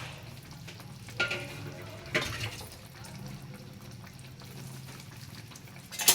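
Grated ginger and turmeric sizzle steadily as they fry in a pan of cooking food, with a few louder scrapes and clatters from stirring.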